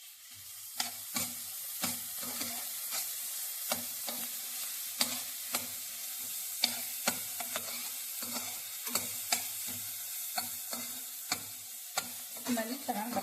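Garlic-ginger paste frying in a pan for pepper chicken, a steady close sizzle broken by repeated sharp ticks and scrapes of a spoon stirring against the pan, with no talking.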